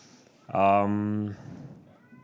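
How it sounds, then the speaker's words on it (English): A cat lets out a single loud, drawn-out meow that lasts under a second. It stands out clearly against the quiet room tone at a live poetry open mic night. "That's just a cat, it's normal."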